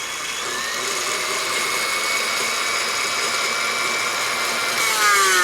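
An electric stand mixer runs on high whipping buttercream, giving a steady, loud, close whirring whine with high tonal hum that holds for several seconds and rises slightly in pitch at the end.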